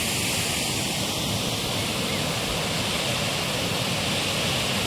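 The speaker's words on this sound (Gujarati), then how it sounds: "પાણીનો જે અવાજ આવી રહ્યો છે ધોધ રૂપી, ખૂબ સુંદર રીતે અત્યારે નદી વહી રહી છે" An overflowing monsoon river near Kamnath Mahadev Temple in Mangrol rushes like a waterfall, a loud, steady roar of water that fills the whole moment without pause.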